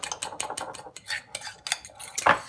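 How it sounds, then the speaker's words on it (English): Whisk clattering against a bowl while mixing banana, cinnamon and oat bran cake batter, a quick run of close, bright metallic scrapes and taps in bursts, ending in a louder clink. "Just keep whisking it together so it all works in."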